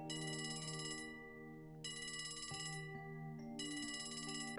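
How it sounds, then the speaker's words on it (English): A telephone rings in the video game Trails from Zero, three bright electronic ring bursts repeating in an even rhythm, clear and close, with nobody talking. "A phone call."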